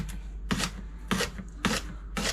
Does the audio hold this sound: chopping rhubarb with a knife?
yes